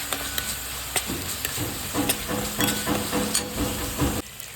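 Red chili powder masala frying in oil, a steady crackling sizzle with spatula scrapes and stirring strokes throughout, close and fairly loud, cutting off near the end with no talking.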